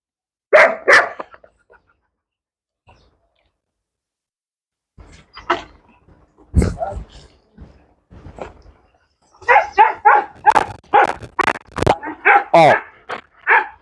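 A dog barks during an obedience training session, a few sharp barks at first, then a pause with scattered noises and a thump, then a rapid run of close, loud barks, and a person speaks between them.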